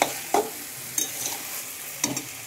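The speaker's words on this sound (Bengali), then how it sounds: "ভালো করে একটু নেড়ে দিই।" Duck meat curry cooking in a pan, a moderate sizzle punctuated by several sharp scrapes and knocks of a spatula as it is stirred, with no voices.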